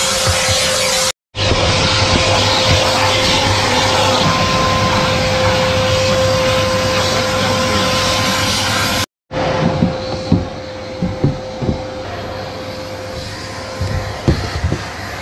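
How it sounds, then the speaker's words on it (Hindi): A vacuum cleaner cleans the carpets inside a car, a loud, steady roaring whine that runs almost without pause, briefly cutting out twice, then continues with bumps and knocks as the nozzle moves. "So we have cleaned the all the carpets with the help of a vacuum cleaner"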